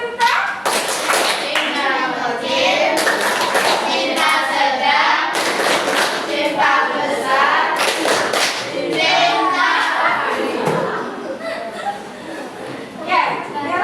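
A classroom of pupils performs a rhythmic clapping cheer, sharp patterned hand claps mixed with children's chanting voices and bursts of sound in a lively, close, fairly loud sequence.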